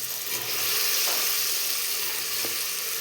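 Mushrooms are added to hot oil with curry leaves in a pan for biryani, producing a steady, bright, close sizzle with a couple of faint stirring taps.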